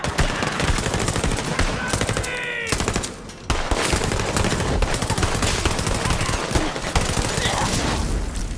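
Rapid automatic gunfire from a gun in the video game Borderlands 3, loud and continuous bursts with a brief pause near the middle, layered over dense game noise and effects.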